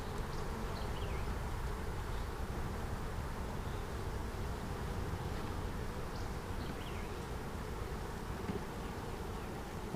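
Honeybees hum in a continuous low drone during a backyard hive inspection while boxes are added, a steady close swarm buzz with no voices.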